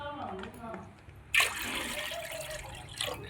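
A voice speaks briefly, then two bowls of water are poured into a pan for lapsi, a sweet of wheat flour and jaggery, giving a sudden, close, gushing splash that trails off into a softer trickle.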